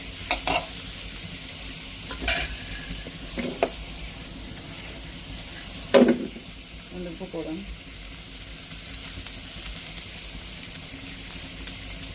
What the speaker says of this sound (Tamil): இப்போ அப்படியே நல்லா எண்ணெயில் வதங்கி கிடக்கும்